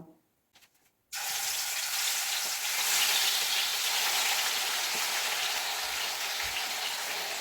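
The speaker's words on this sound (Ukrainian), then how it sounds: "Тепер я відправляю це все на сковорідку. Нехай воно піджариться" Marinated meat sizzling in a frying pan on a stove, a loud, steady hiss of hot fat that starts abruptly after a brief quiet moment and continues evenly without talk.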